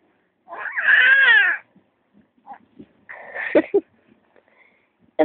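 A cat yowls loudly in a long drawn-out wail, then gives a second shorter, rougher cry after a pause, with quiet rustles in between.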